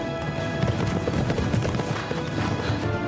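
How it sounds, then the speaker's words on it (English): Racehorses Secretariat and Sham thunder along at a gallop during a race, with dense, loud, continuous hoofbeats and a crowd roaring throughout. "Secretariat and Sham locked in a deadly duel."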